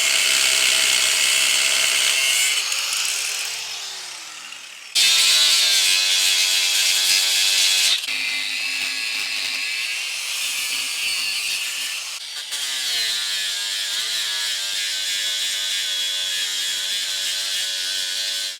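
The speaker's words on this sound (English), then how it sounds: "is cut this bracket off here." A power tool cuts a suspension bracket off a vehicle, a loud, close, sustained metallic grinding whine that shifts pitch across several passes with brief breaks between cuts.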